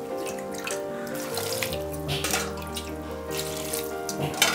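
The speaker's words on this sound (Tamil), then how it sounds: "இப்போ இதில் அளவு தண்ணி ஊற்றிடலாம்." Water runs steadily from a tap into a cooking pot in a home kitchen, a continuous splashing gush with a faintly rising tone as the vessel fills, fairly close and heard alone without talk.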